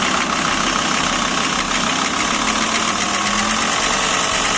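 A car engine idles and is revved gently with a small, steady throttle, giving a continuous mid-pitched drone with a slight rise and faint knocking vibration throughout, close and fairly loud, with no talking.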